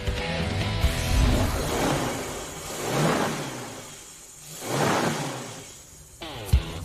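A restored Shelby GT350 Cobra V8 running, its engine note rising and falling in repeated revving swells with a rumbling idle between, fairly close, ending with a sharp knock.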